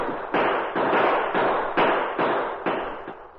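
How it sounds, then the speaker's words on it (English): Rapid volley of gunshots from a posse chasing fugitives at night in an old western drama, about seven loud cracking reports in quick irregular succession, each with a short ringing tail. "Use your guns, men."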